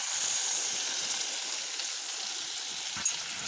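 Steady sizzling hiss of water hitting hot frying spice paste for a tilapia fish curry, a continuous fizz with a brief crackle near the end and no talking.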